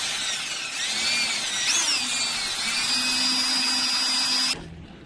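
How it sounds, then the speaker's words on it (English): A power drill whines steadily at high speed boring a pilot hole in a Suzuki X-90, its pitch shifting briefly as it bites in, then cuts off abruptly near the end. "she's going to drill a pilot hole first, then we'll bring in a bigger drill bit"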